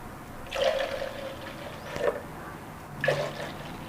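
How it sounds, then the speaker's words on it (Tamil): Water splashes and gurgles in three separate pours into a vessel for mint lemon juice, each a short burst of liquid sound over quiet background noise. "ரெண்டு டம்ளர் தண்ணி சேர்த்தாச்சு."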